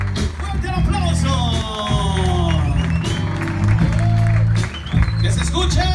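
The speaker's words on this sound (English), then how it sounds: "Let's go ahead and give a round of applause to the court of honor." Applause and crowd noise for the court of honor at a quinceañera, scattered clapping mixed with voices over loud, thumping party music with a heavy bass beat.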